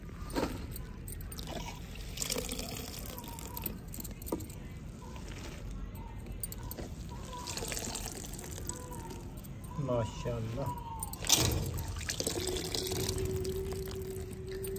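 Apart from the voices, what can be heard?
squeezing water out of soaked dahi bhalla dumplings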